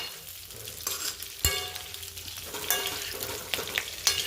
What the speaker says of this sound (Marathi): शक्यतो सारणाला धक्का न देता असेच परतून घ्यायचं